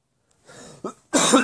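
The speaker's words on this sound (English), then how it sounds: "Sorry, had to cough." A person coughs close to the microphone: a short breathy cough, a brief pause, a sharp second cough, then a louder, rougher throat-clearing cough to finish.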